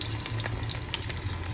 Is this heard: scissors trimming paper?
no